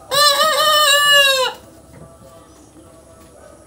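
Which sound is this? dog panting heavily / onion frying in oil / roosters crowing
roosters crowing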